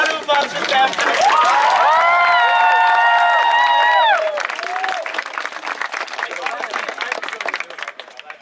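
A crowd at a LAN party event applauds and cheers for Sam Paco, with loud sustained whoops and tonal cheering over clapping that later thins into scattered claps and chatter.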